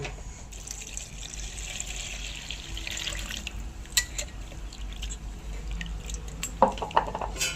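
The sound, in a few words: washing fish under running water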